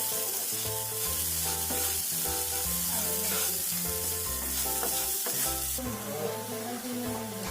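Grated coconut and sugar sizzle steadily in a hot wok while a spatula stirs and scrapes with repeated knocks against the metal, loud and close throughout.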